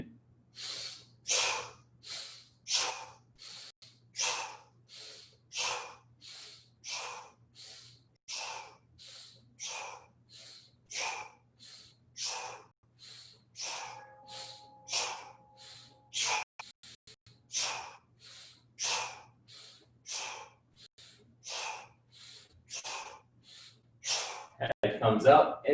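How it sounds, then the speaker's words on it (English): Guided breathing exercise with repeated nasal inhales followed by long shushing exhales, about twenty regular breath cycles in a steady rhythm, close and fairly loud, with a low steady hum underneath. "head goes up, inhale to the nose, head comes down, make the sound shh,"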